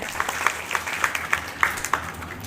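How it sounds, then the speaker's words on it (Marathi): A crowd applauds at a public lecture for Chhatrapati Sambhaji Maharaj's birth anniversary celebration in Kundalwadi, with moderately faint, evenly paced rhythmic claps repeating several times a second throughout. "इतर महिलांसाठी एकदम जोरदार टाळ्यांचा गजर झाला पाहिजे"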